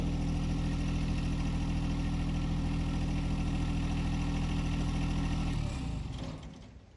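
A John Deere 1025R compact tractor idles steadily at close range, a loud, even diesel drone with a regular low pulse, before the engine winds down and cuts off near the end.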